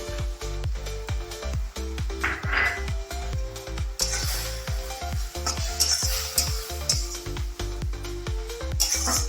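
Chopped fenugreek greens sizzle steadily in hot ghee for a Maharashtrian methi bhaji, with repeated scraping strokes of a spatula against the pan as they are stirred, close and continuous.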